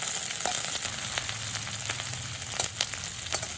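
Spices and grated ginger frying in a pan for Bengali chana dal, with a steady close sizzle and occasional small crackles and pops.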